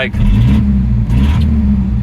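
A small carbureted engine runs rough and uneven, its low rumble rising and dipping as it labors to keep idling; brief hissy bursts break through.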